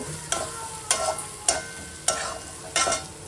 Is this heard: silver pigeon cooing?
no